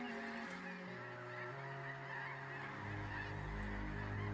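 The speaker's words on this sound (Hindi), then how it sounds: "लंबे सफर के बाद बहुत भूखे ये हंस यहाँ मौजूद खाने की भरपूर दावत उड़ा लेना चाहते हैं" Hungry geese honk steadily while feeding on grass and water plants after a long migration, several birds calling loudly and continuously at close range, layered and overlapping with no talking.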